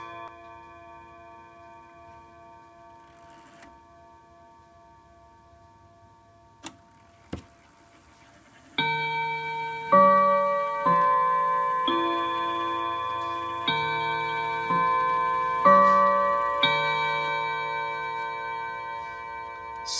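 German DRGM Art Deco mantle clock chiming its second quarter: soft ticking and a couple of sharp clicks give way to a bright, ringing sequence of about eight close, resonant chime strikes, each note sustaining into the next.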